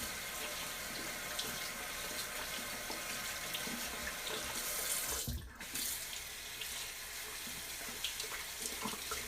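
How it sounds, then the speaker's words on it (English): Tap water runs steadily from a faucet into a sink while shaving brushes are rinsed, a continuous close splashing hiss with a brief dip partway through. "I like to wash my brushes out right after I shave."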